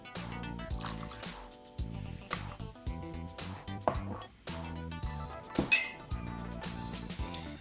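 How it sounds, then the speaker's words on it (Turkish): Water and milk are poured into a bowl, with short splashing pours and light clinks of a container against the bowl in quick, uneven bursts. "Öncelikle suyumu ve sütümü kabıma alıyorum."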